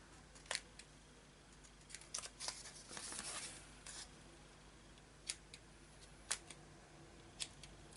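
Scissors snipping paper while making a layered pocket for a craft project: a handful of sharp, isolated clicks and short cuts spread across the stretch, close and fairly quiet, with a slightly longer rustling cut in the middle.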